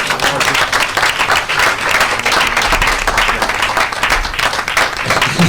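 A church congregation applauds, a loud, dense wash of many hands clapping that holds steady from start to finish.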